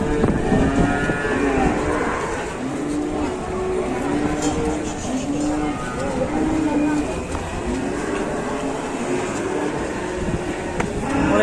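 Repeated low moos, roughly one every second or two, come from a cow just unloaded from a truck after raging. The calls are near and steady over a busy background with voices.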